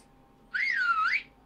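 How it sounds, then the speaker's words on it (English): A single short whistle rises and dips in a quick warbling sweep, clear and fairly close against a quiet background. "Who's whistling at me?"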